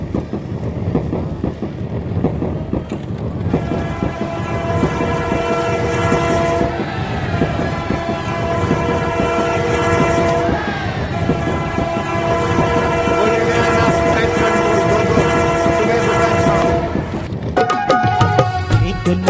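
A train on an ashram's railway, built by its children, rumbles past loudly with a long sustained horn and rhythmic wheel clatter, running on alone for about twenty seconds before a brief sharper burst at the end.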